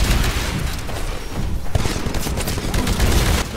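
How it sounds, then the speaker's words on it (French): Continuous heavy weapon fire from an anti-titan gun in the video game Titanfall during a training simulation, loud dense booms and rattling blasts running the whole time with no talk. "Détruisez le titan avec votre arme anti-titan."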